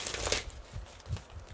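A deck of tarot cards being shuffled close up, a brief papery riffle at the start followed by softer handling and low thumps, fairly quiet with no talking.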